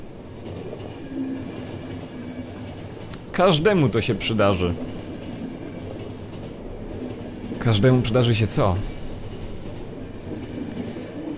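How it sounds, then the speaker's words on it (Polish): A moving train in the video game The Final Station rattles steadily along the tracks in a constant rumbling clatter, while voices speak over it twice. "Pociąg wkrótce się zatrzyma."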